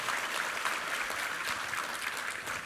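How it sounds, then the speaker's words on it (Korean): A congregation applauds during a Sunday church service, a soft, even wash of many hands clapping that is heard from a distance and continues without a break. "우리 하나님께 감사와 영광의 박수 올려드리겠습니다"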